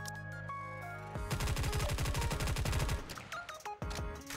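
Rapid machine gun fire in the game Goddess of Victory: NIKKE rattles out in a fast, loud burst lasting a couple of seconds, followed by sparser shots and game sound effects.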